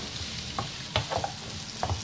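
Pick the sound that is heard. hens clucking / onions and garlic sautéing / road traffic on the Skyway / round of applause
onions and garlic sautéing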